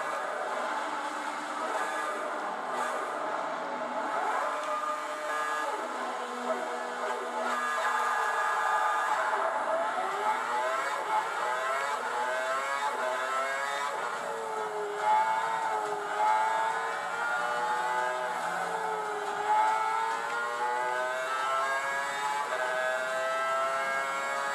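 Car in the Forza Horizon 5 racing game driving and drifting through corners, a steady engine drone with rising and falling pitch sweeps as revs change, continuous and fairly loud with no voices.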